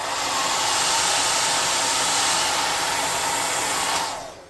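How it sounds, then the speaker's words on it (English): A hot air gun blows a steady, loud, rushing stream of air to clear excess dust off a small model figure, running continuously before cutting off near the end. "Hot air gun, blow away the excess dust."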